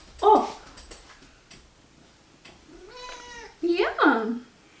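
A pet cat gives a few short meows, with a longer, rising meow near the end, close by amid soft background noise and brief bumps.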